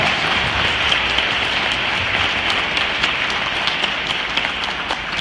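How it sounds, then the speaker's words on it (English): An audience at a public talk on school segregation gives sustained applause, a loud, even wash of many hands clapping that continues without a break. "Another round of applause for Ms. Nikole Hannah-Jones."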